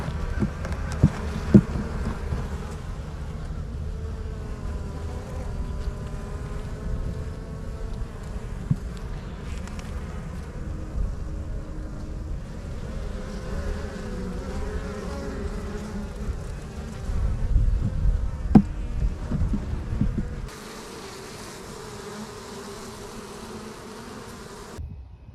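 Honey bees buzz steadily around a beehive through most of the stretch, a close, continuous droning hum that thins out and drops away near the end.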